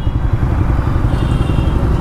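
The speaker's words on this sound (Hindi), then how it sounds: "बाइक में नहीं बेटा, एग्जॉस्ट दिक्कत है" A motorcycle engine with a faulty exhaust runs loud and close, giving a continuous rough, rattling drone with crackling pulses and no pauses.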